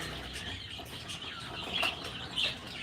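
Short bright chirps from budgerigars pop out twice over a busy, noisy background on a poultry farm, small cage birds twittering nearby.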